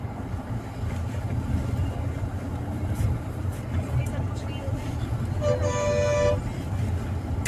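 Road traffic rumbles continuously while stopped near a railway crossing on a road trip toward Goa. One loud, sustained car horn blast sounds near the end over the engine noise.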